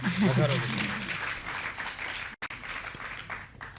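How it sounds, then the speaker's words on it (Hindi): Faint, distant audience clapping welcomes a song at a Hindi poetry recital, beginning just after a brief voice and continuing at low level throughout. "इस गीत के स्वागत में तालियां बजा दीजिए"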